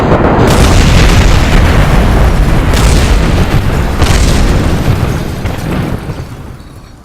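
First-stage rocket engines firing in Kerbal Space Program, a loud continuous roaring rumble that holds steady for several seconds before slowly fading, with no talking over it.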